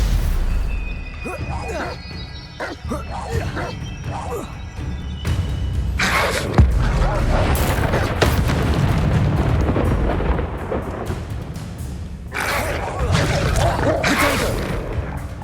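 Spell blasts from Confringo and Incendio in Hogwarts Legacy boom and rumble through a busy magical duel, with heavy explosive thuds and crackling bursts under a voice calling out spells.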